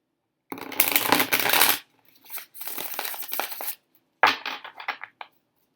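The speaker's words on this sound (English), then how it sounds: "So let's shuffle him back in." Tarot cards are shuffled in three bursts of brisk riffling and sliding, close and crisp with short pauses between, no talk.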